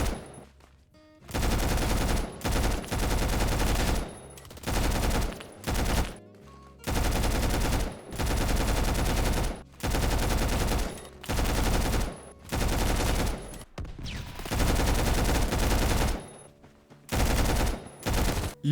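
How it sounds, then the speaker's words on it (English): Mark 16 SOCOM SC rifle firing in the video game Phantom Forces, with repeated full-auto bursts of about one to two seconds separated by short gaps, loud and close with no talk. "let's talk about the next gun, which is going to be the Mark 16 SOCOM SC."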